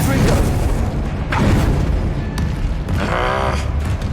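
Confringo fire spell blasting in the Hogwarts Legacy video game, a few loud booming bursts layered over dense battle noise and a steady low rumble, with a brief whooshing flare near the end.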